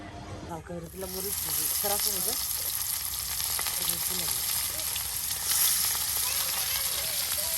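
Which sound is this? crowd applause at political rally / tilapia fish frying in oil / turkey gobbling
tilapia fish frying in oil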